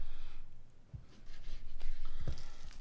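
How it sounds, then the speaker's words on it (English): A knife cuts through a slab of pork belly with faint, soft sawing and squishing strokes, punctuated by a couple of light knocks against a board, quiet and close. "let's go ahead and get this thing cut in half, roughly half"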